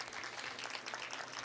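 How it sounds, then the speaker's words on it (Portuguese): Brief, faint, continuous applause from an audience at a panel on circular economy and waste management, heard as a soft, even patter. "Uma salva de palmas para o Dr."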